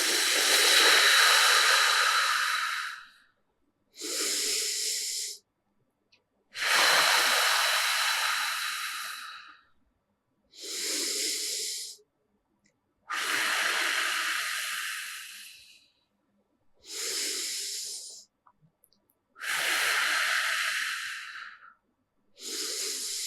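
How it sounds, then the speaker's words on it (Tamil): Slow breathing exercise for chest muscles: long loud exhales blown out through the mouth alternate with softer nasal inhales, repeated about eight times in a steady, close rhythm with pauses between. "இப்போ மூச்சை மூக்கு வழியாக உள்ளே இழுத்து வாய் வழியாக அப்படி மெதுவாக ஊதணும்"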